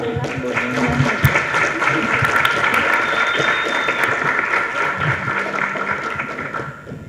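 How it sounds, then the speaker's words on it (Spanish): Sustained audience applause at a launch event for a catalogue of authors and oral memory bearers, with dense clapping over murmuring voices and brief tones, holding steady before fading out at the end. "Que se sientan aplausos."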